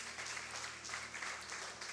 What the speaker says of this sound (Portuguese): Aplauda ao Senhor, meu amado, em nome de Jesus.